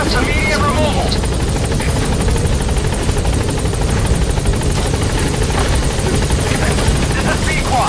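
Loud, continuous helicopter rotor chop and engine whine from Metal Gear Solid V, close and unbroken, with voices faintly under the noise.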